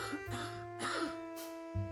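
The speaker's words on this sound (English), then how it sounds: "You coughed up blood." In the horror game Dark Rites of Arkham, a character gives two or three harsh, rasping coughs, fairly faint over a low droning background.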